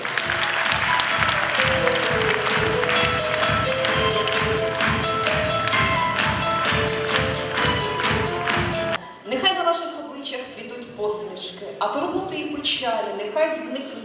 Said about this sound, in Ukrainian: Ще раз ваші оплески.